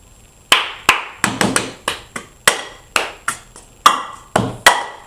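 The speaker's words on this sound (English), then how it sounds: "So clap, clap, tap, tap, tap, clap, pick up, drop, clap" Hands clapping and plastic cups tapping on a table in the cup game rhythm, a sequence of about fourteen sharp, close, crisp hits in an uneven repeating pattern, with no talking.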